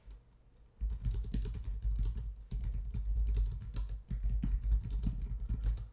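Rapid keystrokes on a computer keyboard start after a quiet moment and run on steadily, close and fairly loud, with a short break partway through and no voices.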